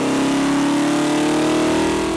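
A Ford 347 small-block V8 for a Mustang track car revs hard on an engine dyno, giving a loud, continuous roar whose pitch climbs slightly.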